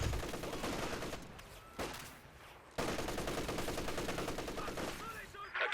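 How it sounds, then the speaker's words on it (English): MG34 machine guns fire in Company of Heroes 2, rapid sustained bursts of automatic gunfire in a World War II battle, broken by a short pause, loud and dense, with a voice talking faintly underneath. "And here another MG34 opens down the section there"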